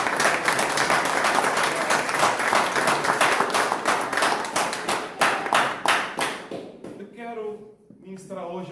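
A church congregation claps together in steady applause for several seconds, dense and close, thinning toward the end as a voice begins speaking over the fading claps.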